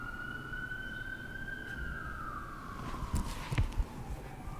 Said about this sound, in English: letting the sirens pass.